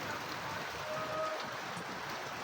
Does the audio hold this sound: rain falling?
yes